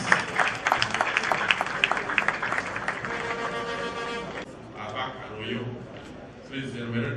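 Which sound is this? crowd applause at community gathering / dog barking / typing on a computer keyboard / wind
crowd applause at community gathering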